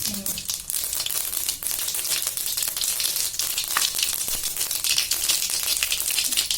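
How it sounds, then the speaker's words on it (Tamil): Mustard seeds spluttering and popping in hot oil, a dense, loud crackling sizzle with rapid sharp pops that runs steadily throughout. "கடுகு பொரிய ஆரம்பிச்சிருச்சு."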